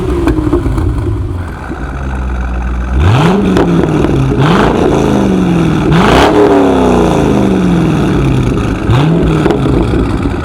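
A V8 5.7-litre LS engine fitted to a lawn mower roars through its exhaust, revving up repeatedly in rising sweeps over a deep rumbling idle, loud and close.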